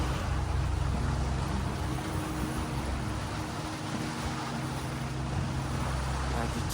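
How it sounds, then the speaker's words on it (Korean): A sailboat's engine drones steadily at a low pitch on a windless passage at sea, mixed with wind and water noise, with no pauses. "바람이 없어서 엔진으로 가고 있습니다"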